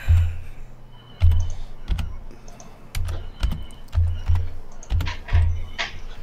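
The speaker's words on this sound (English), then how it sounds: "Let me type that in here." Someone types on a computer keyboard in bursts of crisp close clicks, with an uneven rhythm, over a low throbbing hum that rises and falls in the background.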